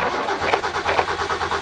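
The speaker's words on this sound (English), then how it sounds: "so you can see, you can hear it idling" A 1965 Ford Mustang coupe with a six-cylinder engine and manual gearbox cranks and catches, settling into a rough, pulsing idle heard up close and fairly loud.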